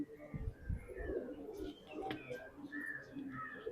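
Several pigeons coo softly in a loft in Kannur, Kerala, with repeated low rolling calls and small chirps at a moderate distance, while a voice murmurs faintly underneath.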